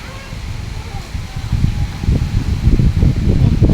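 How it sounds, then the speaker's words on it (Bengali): A strong storm wind blows hard through trees, including banana trees, with gusts that build and grow louder and rougher, buffeting the microphone with deep rumbling bursts. "প্রচুর পরিমাণে কিন্তু বাতাস যাইতেছে।"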